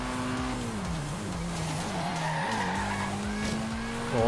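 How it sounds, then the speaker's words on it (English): Tires squeal and skid under heavy wheel spin as a '92 Alfa Romeo 155 Q4 with close to 500 horsepower accelerates in Forza Horizon 3. The engine drone stays loud and close beneath the shriek throughout. "Oh, a lot of wheel spin there"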